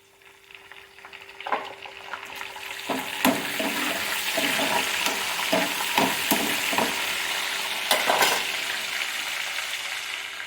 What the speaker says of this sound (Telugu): ఇప్పుడు కరివేపాకు వేద్దాం